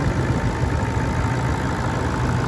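A 2018 Toyota Landcruiser GXL 200 series V8 idles steadily with a low, even rumble, close and continuous with no knocks or rattles.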